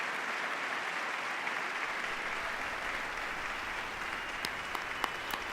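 Members of Congress applauding during the State of the Union address in the House chamber, a dense, sustained wash of clapping from a large crowd, steady and loud with no talk over it.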